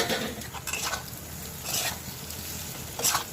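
Boiled potato pieces drop into a pan of bitter gourd sabzi that sizzles and fries steadily, with a few stirring scrapes and light utensil clinks close by; no talking.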